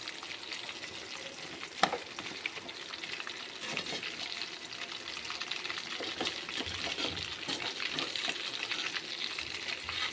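Fish pieces fry in a pan with a steady, close sizzle and crackle that keeps going throughout, with occasional taps and stirring.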